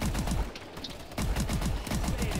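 An S12 shotgun in the Exo-Zombies game fires rapidly and loudly, shot after shot with short booms in a quick, steady rhythm, with no voices over it.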